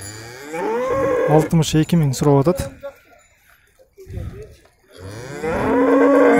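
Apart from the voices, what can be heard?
cow calf mooing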